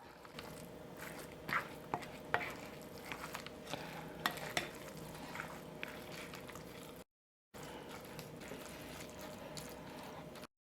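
A spoon stirs a mixture seasoned with mushroom seasoning, salt and white pepper for a vegetarian lobster dish, giving soft steady scraping with small clicks, close and alone, broken by a brief gap of silence.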